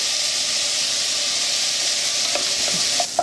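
Chopped onion and green pepper sizzle steadily in a hot frying pan, a loud even hiss with a few soft clicks of stirring near the end.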